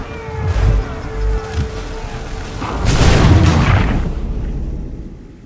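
A musket volley fired on command in the video game Assassin's Creed III: a loud, rolling boom that swells and lingers for a couple of seconds, preceded by a few scattered sharper shots.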